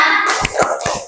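A class of students performs a rhythmic 'focus' hand-clap routine, a few sharp, uneven claps and taps in quick succession, close and fairly loud, with no talking.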